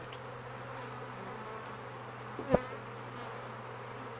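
Honey bee foragers hover in front of a hive box, giving a faint, steady low drone with a soft outdoor hum, broken once by a single brief knock or tap.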